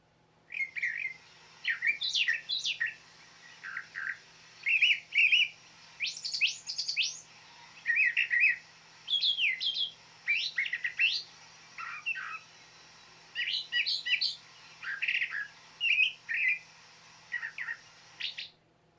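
A Brown Thrasher's song plays from a songbird book's CD: a long run of varied, clear, whistled phrases, each short burst separated by brief pauses, heard alone over a faint low hum.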